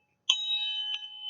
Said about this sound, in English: It's like my chakra bell.